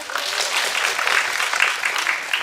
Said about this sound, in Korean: 많이 박수 쳐주세요